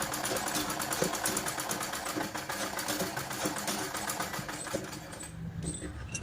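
A sewing machine runs steadily for a line of reinforcing stitches along the strips of a simple blouse, its fast, even needle rhythm continuous and close throughout.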